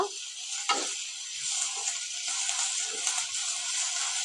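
Coriander coconut chutney mixture is stirred in a sizzling pan, a steady bright frying hiss with soft scraping strokes of the spoon running throughout, close and moderately loud with no talking.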